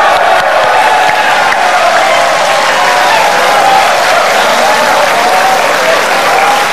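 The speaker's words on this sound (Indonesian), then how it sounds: "Tepuk tangan." A studio audience at a televised presidential debate breaks into sustained, dense applause that holds steady and loud throughout.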